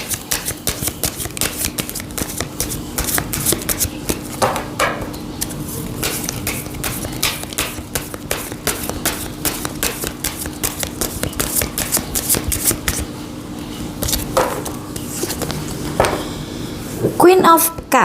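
Tarot cards shuffled and drawn at a reading table: steady dense papery riffling and flicking for the whole stretch, with a sharper slap of a card near the end, close and moderately loud.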